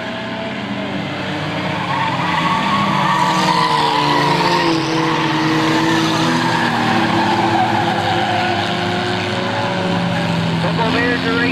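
Race cars roar around a track at a 1998 auto race, engines loud and continuous with rising and falling pitch as they pass, while an announcer talks over the noise.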